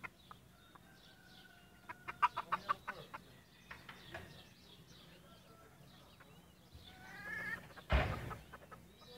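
White bantam chickens clucking in short bursts nearby, with a louder squawk near the end and light background noise.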